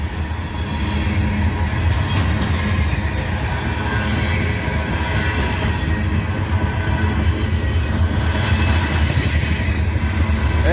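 A freight train rolls through Abbeville, a loud, steady rumble of wheels and cars that continues without a break for the whole stretch, with faint rhythmic clatter and occasional squeal on top.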